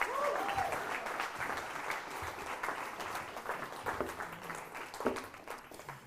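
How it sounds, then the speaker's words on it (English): Audience applause for the Citizen of the Year 2020 nominees, a steady clapping crowd heard close and evenly throughout, fading slightly toward the end. "Let's give everyone a round of applause."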